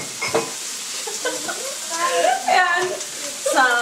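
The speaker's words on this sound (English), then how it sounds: "Getting started, we are going to saute the apples," Apples sauté in butter in an iron skillet with cinnamon, cloves and nutmeg, a gentle close sizzle under a speaking voice, with a few light stirring knocks.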